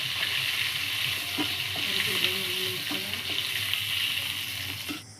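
Shrimp frying in hot oil in a wok, a steady, loud, broadband sizzle holding throughout, with a few faint clinks of utensils underneath.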